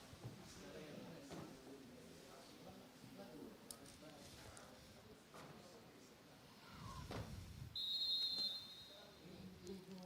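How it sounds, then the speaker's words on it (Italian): A referee's whistle sounds at a women's football penalty shootout, one shrill, sustained blast over the murmur of the stadium crowd. A commentator talks throughout. "Il fischio dell'arbitro"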